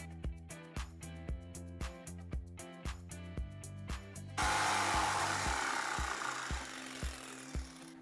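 Rhythmic back-and-forth strokes of a saw cutting wood freehand for a rustic picture frame arch, steady and close, with a rougher, louder burst of cutting partway through.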